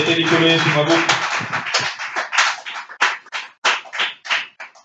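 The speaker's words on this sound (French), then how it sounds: "On applaudit pour le Seigneur." A church congregation claps together in a worship service, a dense burst of applause that thins into sharper, spaced, rhythmic claps, close and loud, with a voice briefly under the start.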